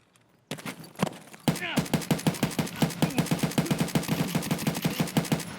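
Rapid automatic gunfire in Escape from Tarkov, a fast rhythmic burst of sharp shots that starts after a quiet moment and keeps up steadily, loud and near.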